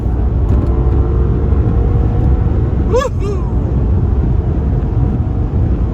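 BMW 760 driving on the open road, with a loud, steady engine and road drone running throughout and a brief chirping tone near the middle.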